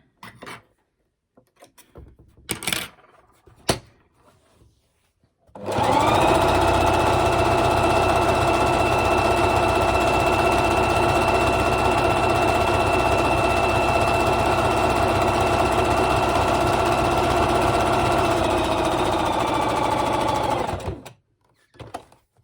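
A sewing machine stitches a fabric rose in one long continuous whirring run of about fifteen seconds. A few faint handling clicks come before it starts and after it stops.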